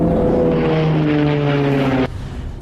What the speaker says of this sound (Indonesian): Ini bukan pesawat pembom Jepang.